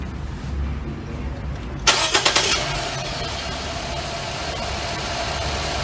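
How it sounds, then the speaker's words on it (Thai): A 2014 Nissan Juke 1.6 engine cranks briefly with a few sharp bursts, catches, then settles into a steady idle hum that continues to the end. "ทีนี้เรามาลองฟังเสียงเครื่องยนต์กันดูนะครับ"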